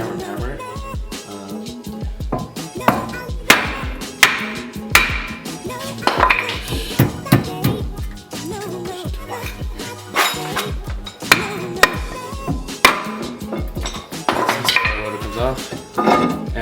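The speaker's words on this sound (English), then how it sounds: "you can just get a hammer and hammer it" Sharp metallic strikes ring out repeatedly in irregular bursts, loud and close, a hammer banging on a wheel stud through wood on a Lexus GS300 rotor, with some clanking in between.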